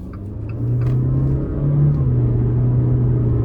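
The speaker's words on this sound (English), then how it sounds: "let's go ahead and take this Fiat 500X out on the road for a quick test drive" A turbocharged 2021 Fiat 500X Trekking driving on the road, heard from inside as a steady low engine and road rumble with a mild rise in revs, no talking.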